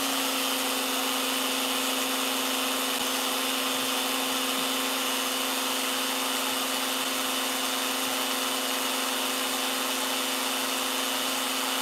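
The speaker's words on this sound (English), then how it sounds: "And the spindle's now on." A CNC machine spindle runs with a steady, continuous whine and broadband hum that holds level throughout, with no talk over it.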